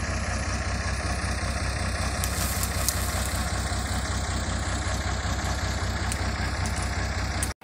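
A tractor engine idles steadily at close range, a low, even rumble with a fast regular pulse that holds without change and cuts off at the very end.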